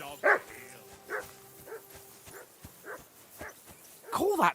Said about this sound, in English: Call off that mutt of yours.